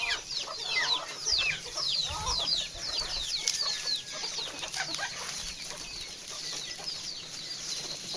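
Farm chickens peck at sorghum ears and leaves, clucking steadily in a busy overlapping chorus of short, sharp calls at close range, with faint rustling and scuffling beneath and no one talking.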